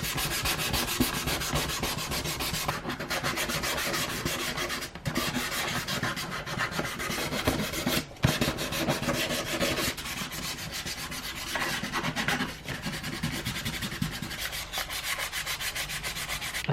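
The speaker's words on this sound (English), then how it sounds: "I'm going to scuff all these up" Hand scuffing of a surface ahead of painting, a continuous rough sanding rub of steady back-and-forth strokes with brief pauses, close and fairly quiet, no voices.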